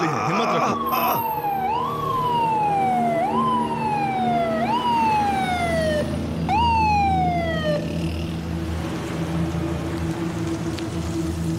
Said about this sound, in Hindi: एम्बुलेंस आने वाली है, हिम्मत रखो।